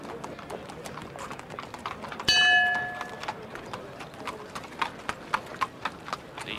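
Horses walk at a racecourse with a soft, irregular clip-clop of hooves. A sharp ringing clang cuts in partway through, followed by louder hoofbeats nearer the end.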